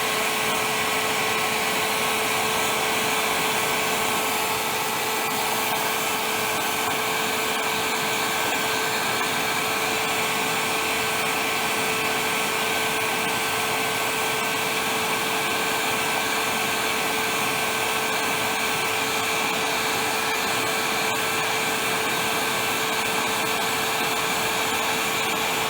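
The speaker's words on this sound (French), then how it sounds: "Donc, décapeur thermique, attention de ne pas y aller trop fort quand même." A heat gun blows steadily as it gently melts the surface of old plastic, a loud continuous whirring roar with a fixed hum that runs unbroken throughout, with no talk.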